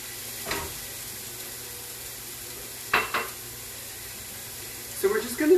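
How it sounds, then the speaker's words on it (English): Chopped Anaheim and Serrano peppers with onion sizzle steadily in a pan for huevos rancheros, a continuous close frying hiss broken by a few stirring scrapes and clatters, with a voice briefly speaking near the end. "So we're just going to cook these until the onion becomes translucent. Stirring, stirring, stirring."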